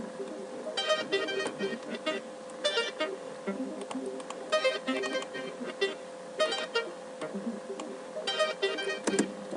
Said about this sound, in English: I've got some arpeggios which are interesting, which sound like this.